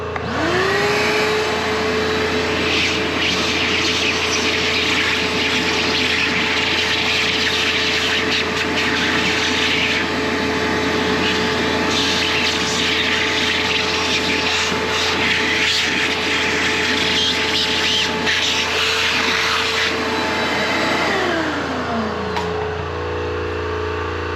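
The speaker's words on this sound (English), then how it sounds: "Let me get this air compressor to quit." An air compressor running steadily and loudly in a workshop during a Cub Cadet mower inspection, a constant droning hum with a whining tone that winds down near the end.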